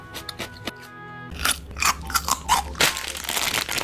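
Crunchy pickled plums (karikari ume) from a 7-Eleven convenience store are bitten and chewed up close, with loud, crisp crunching bursts in quick succession following a short quiet stretch.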